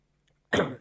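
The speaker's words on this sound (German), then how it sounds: "Und jetzt weißt du, dass ich deinen Husten noch nicht ausschneiden werde." A single sharp cough, close and fairly loud, bursting out after a brief near-silence and fading quickly.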